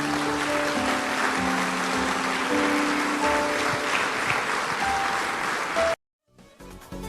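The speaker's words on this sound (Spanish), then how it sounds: "Le damos un aplauso al Señor" Congregation applause at a Christian church service after a sermon, a dense sustained wash of clapping with organ or keyboard notes held underneath, cutting off abruptly near the end before faint music returns.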